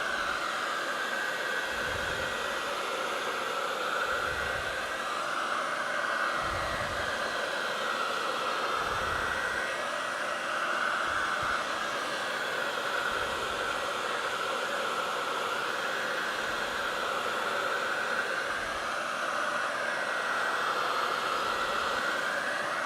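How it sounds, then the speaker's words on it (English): A heat gun blows a steady, loud, breathy roar over varnished cherry wood to speed drying, with a faint rhythmic waver as the nozzle is swept back and forth, continuous throughout. "if you were in a hurry to make a sample, use a heat gun"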